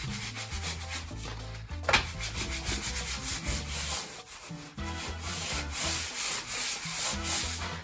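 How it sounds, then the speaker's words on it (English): Wax is rubbed hard back and forth over skateboard grip tape during complete-board assembly, a loud continuous scraping with a steady rhythmic texture. "you take this waxy part, put it down, and you can rub it hard and not grind your hand away on the grip tape"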